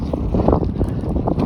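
Strong, gusty wind in rain on the Continental Divide Trail roars and buffets the microphone in steady low rumbles, loud and close, with no voices.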